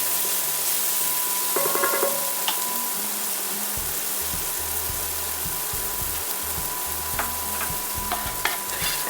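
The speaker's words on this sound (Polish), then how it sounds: "Na masło, na którym podsmażały się piersi, wrzucam szalotkę, mieszam i smażę przez chwilę." Steady sizzling of shallots frying in butter in a pan, with scraping and clinking of a utensil stirring them now and then, close up and continuous.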